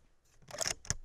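A 6.5 rifle cartridge is pushed into the magazine, giving a short metallic scrape and slide, then a crisp click as it seats. Close and brief, with no talk.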